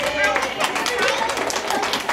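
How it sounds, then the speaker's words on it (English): Audience applause at a live reptile show, dense broadband clapping mixed with crowd chatter and children's voices, loud and sustained throughout. "Let's give Rudy a big round of applause."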